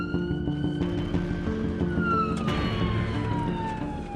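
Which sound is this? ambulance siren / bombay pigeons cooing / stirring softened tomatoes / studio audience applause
ambulance siren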